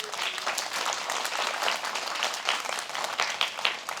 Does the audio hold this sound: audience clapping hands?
yes